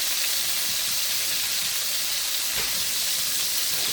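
Floured cube steak pan-frying in hot oil gives a steady, even sizzle and hiss that holds without a break for the whole stretch, with no talking over it.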